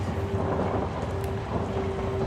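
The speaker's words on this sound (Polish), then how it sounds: "Deszcz pada za oknem." Steady rain falling outside a window with a low rumbling of thunder in the Outlast horror game, a continuous, even wash of sound throughout with no voices.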